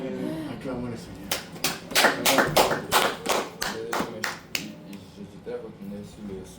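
Church congregation clapping in acclamation at a French-language service, a dense burst of rhythmic handclaps that swells, then thins out into scattered claps, with voices underneath.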